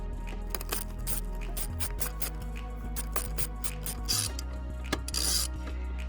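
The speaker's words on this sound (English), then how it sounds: "this should come off really good with the T50 screw" A ratchet clicks steadily while loosening a T50 Torx screw on the steering column of a 2005–2011 Audi A6, close metallic ratcheting with occasional clinks of the tool and part.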